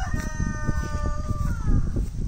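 A rooster crows in a backyard flock of laying hens and Isa Browns on a sunny morning, giving one drawn-out crow over soft clucking and scratching from the chickens nearby.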